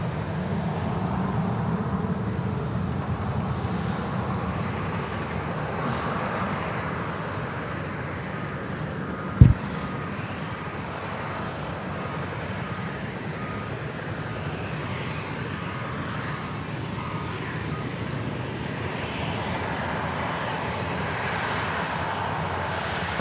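A Velocity Boeing 737 at Sydney Airport gives a broad, steady jet roar that holds for the whole stretch, with one brief sharp click partway through and no talk.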